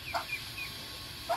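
Month-old Muscovy ducklings give a few faint, short calls, two brief peeps close together at the start and another near the end, over quiet background.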